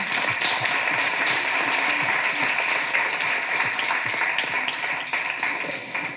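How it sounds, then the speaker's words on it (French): A crowd at a women's mental health conference applauds, a dense, steady wash of many hands clapping that holds for about six seconds before easing slightly at the end. "On peut applaudir"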